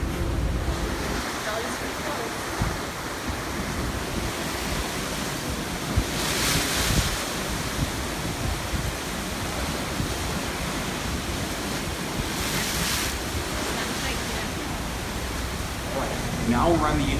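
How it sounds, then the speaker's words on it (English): Ocean waves seen from the deck of the cruise ship Allure of the Seas, a steady broadband wash of surf under strong wind buffeting the microphone, with a couple of louder gusts. "I present the ocean."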